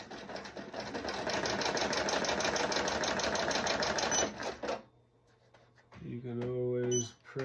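An embroidery machine stitches a patch on with a rapid, steady mechanical chatter of needle strokes that runs loud and close for about four seconds, then stops, followed by brief whirring and clicking as the machine repositions.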